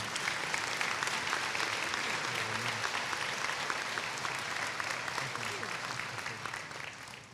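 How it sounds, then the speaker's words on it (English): Applause at a spring commencement ceremony honoring a staff member: a dense, sustained crowd clapping, fairly loud and even, tapering slightly toward the end. "Let's give her a round of applause"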